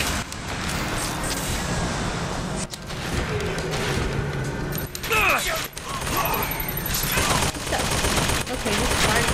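Video game gunfire rattling in bursts and volleys amid clanks and slams, loud and busy, with a voice talking over parts of the action.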